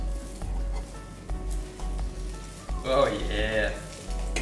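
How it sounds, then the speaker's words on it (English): A high-protein omelette fries in a pan with a steady, close sizzle and a few soft knocks, while someone briefly speaks near the end. "It looks like it's almost ready to flip. I'm flip it."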